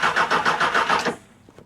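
A Honda CB600 Hornet motorcycle engine cranks over with a steady rhythmic churn of about six pulses, then cuts off abruptly into near silence with a faint click.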